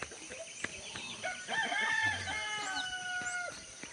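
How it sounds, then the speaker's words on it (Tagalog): A rooster crows loudly among clucking chickens on a quiet provincial farm where ducks are also kept, with faint scattered clucks and bird calls around the crow. "mga alagang mga pato at saka manok"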